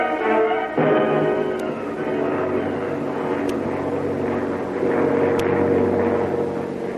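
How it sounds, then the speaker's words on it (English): A giant airliner's engine drone as a radio drama sound effect, a loud steady throbbing roar with layered tones that holds for the full stretch with slight swells and no voice over it. "Racing high above the earth, comfortably seated in a giant airliner, Flash Gordon"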